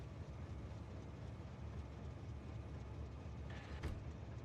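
A train passing in Baldur's Gate 3 makes a steady, faint low rumble of rolling rail noise that runs throughout, with a brief higher tone near the end.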